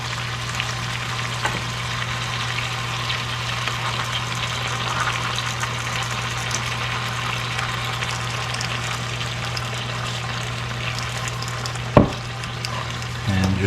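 Snow peas fry in soy sauce in a pan, giving a steady low sizzle with a constant hum underneath, while a single sharp clack of stirring sounds near the end.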